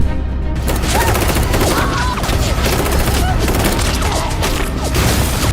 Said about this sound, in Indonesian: Zhang yang berdiri agak jauh juga ditembak dengan senjata berat